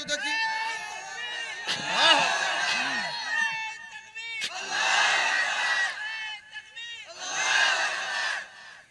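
Crowd at a religious mahfil shouting the takbir chant 'Allahu Akbar' in unison, three loud surging waves of many voices with short pauses between them.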